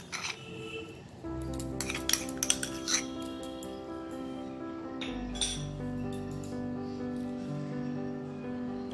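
A metal spoon clinks against a pot and dish while hilsa fish gravy is sprinkled over Kolkata-style biryani, producing several close, bright taps and scrapes amid faint background hum.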